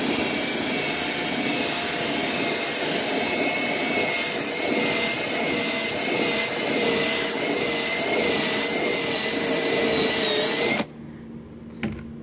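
A power drill spins a cleanup bit against the metal of a car body around a hole bored for a grounding bolt, giving a steady high whine and grinding for about eleven seconds before it abruptly stops.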